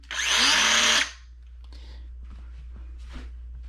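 A DeWalt DCS438B 3-inch cordless cut-off tool spins up with a loud, high whine for about a second, then winds down, leaving faint handling clicks and shuffles.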